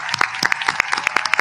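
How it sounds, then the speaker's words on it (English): Students at a ceremony applauding their families, heard as a close, brisk patter of separate hand claps from a small group, loud and distinct, with no talk over them. "let's give our families a round of applause"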